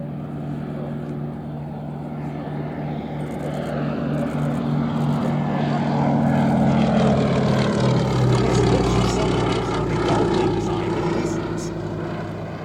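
Westland Lysander propeller aircraft flying at the Shuttleworth Festival of Flight air show, its engine drone swelling as it passes closer and then easing, loud and steady under continuous commentary.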